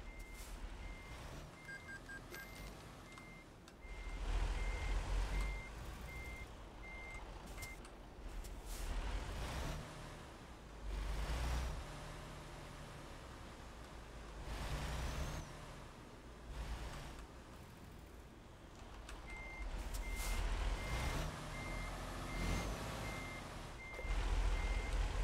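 Truck reversing beeps in the game American Truck Simulator come in repeated steady beeps over a low engine rumble and air hiss. Louder swells of vehicle noise rise and fall throughout.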